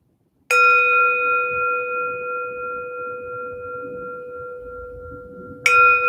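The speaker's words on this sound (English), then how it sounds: "why does this portion get its special bell before and after and a bow?" A meditation bell rung before a period of stillness: one clear struck tone with steady harmonic partials that rings and slowly decays for about five seconds, then a second strike begins at the end, alone with no talk.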